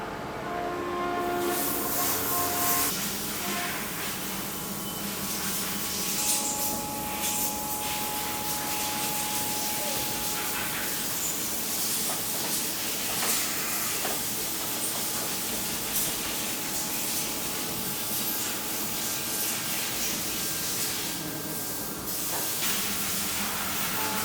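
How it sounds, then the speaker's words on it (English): A CNC milling machine cuts a contour and chamfer in one 3D milling pass, giving a steady, loud grinding whir with high hissing tones that runs unbroken throughout. "machining around and putting the chamfer on, you can do it all in one because of all that 3D milling"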